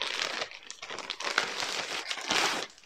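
A SHEIN clothing package being opened, with continuous plastic crinkling and rustling close up for about three seconds, no voices.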